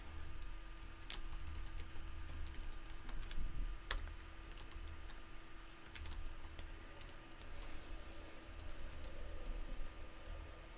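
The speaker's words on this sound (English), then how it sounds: "I'll explain this after I'm done typing." Fingers type steadily on a computer keyboard during a programming session, a close, continuous clatter of quick key taps with occasional sharper strokes and no talking.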